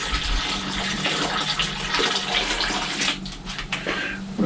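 Water gushing and pouring steadily into a bucket as duck water is drained off before boiling, a continuous close splashing flow that stays loud throughout.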